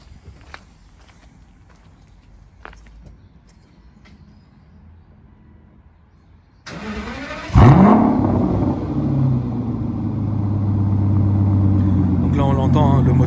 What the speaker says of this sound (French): On l'entend, hein, le moteur atmosphérique,